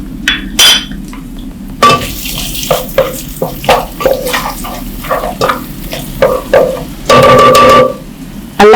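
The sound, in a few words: onions frying in oil with browned tomato paste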